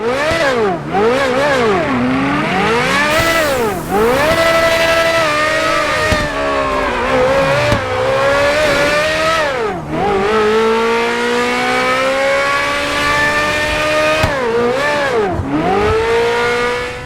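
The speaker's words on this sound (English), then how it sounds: "And to that, I'll also add real-life engine sounds." Real-life car engine sounds modded into GTA 5 on PC: a loud engine revs hard through repeated gear changes, pitch climbing and dropping with each shift, with a brief tire squeal and no talking.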